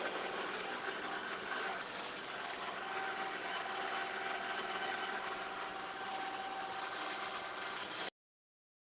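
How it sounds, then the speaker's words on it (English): A backhoe engine runs steadily while digging out a pond, giving a continuous mid-range drone with a faint knocking texture that holds at an even level for about eight seconds before cutting off. "Play around on my backhoe and dig out my pond a little bit."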